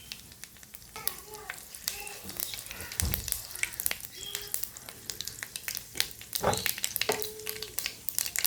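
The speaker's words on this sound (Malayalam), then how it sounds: "എണ്ണ ചൂടായിട്ടുണ്ട്. കടുകിടുകയാണ്." Mustard seeds splutter in hot oil in a tava on a stove, sharp irregular pops and crackles over a low sizzle, close and lively, with scattered clinks of the pan.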